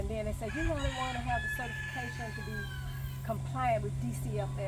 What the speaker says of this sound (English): as I listen to the roosters crow